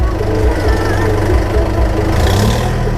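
Kubota M7508 tractor engine revving, a loud, rough diesel rumble that swells and settles, with a voice speaking over it.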